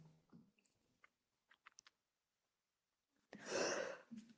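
A single sneeze bursts out near the end of a quiet indoor moment, short and fairly loud, after faint small mouth and movement sounds.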